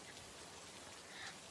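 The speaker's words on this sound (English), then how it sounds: "my favorite way to enjoy the sounds of rain while closing my eyes" Steady rain falling, a soft continuous wash of raindrops pattering on surfaces, fairly faint and even throughout with no voices.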